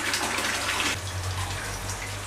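Water rushing and splashing as clay ball growing media is rinsed for a flood-and-drain grow bed, a steady loud gush running throughout with no talk.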